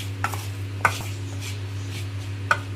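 Okra being mixed by hand in a bowl with gram flour and chili powder for bhindi, quiet soft rubbing and stirring over a low hum, with two sharp clinks against the bowl, no talking.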